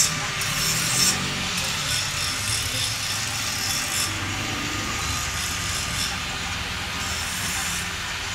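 Steady metallic rasping of a file smoothing sharp edges on a motorcycle exhaust pipe during an exhaust change on a Honda CB650R, continuous scraping strokes close by with no talking.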